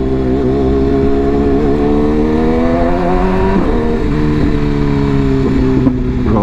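A BMW S1000RR sport motorcycle engine runs steadily and loud close by while riding in Brooklyn near Coney Island, its pitch rising and falling through throttle changes and a sharper rev partway through, with no talking.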